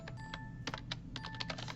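Keys clatter on a computer keyboard in quick, uneven bursts of close, crisp clicks, with no voice over them.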